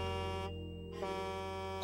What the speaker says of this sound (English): It's the sound of a big truck blowing its horn.